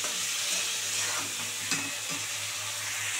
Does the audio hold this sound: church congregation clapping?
no